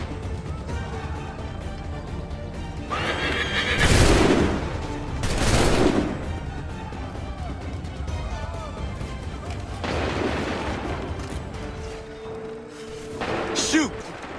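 Musket volleys in Assassin's Creed III, two loud booming bursts of massed gunfire followed by a later, softer volley and a final crack, amid shouted commands and battle noise.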